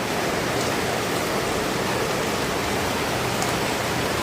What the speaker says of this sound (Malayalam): ഇപ്പം മീനിൽ നമ്മൾ വെള്ളം ഒഴിച്ച് കൊടുത്തിട്ടുണ്ട് കേട്ടോ.